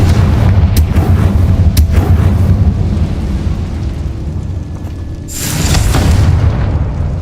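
A Confringo fire spell explodes in Hogwarts Legacy with a loud, sustained booming roar and a sharp burst near the end, heard alone.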